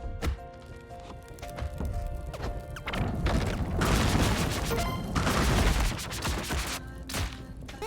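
Bombs go off in Spelunky 2 as crashing, crackling bursts over background game music, with a louder stretch of blasts and debris noise in the middle.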